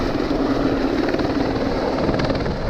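A helicopter flies close by with a steady, loud whirring rotor roar that fills the whole moment. No voices are heard.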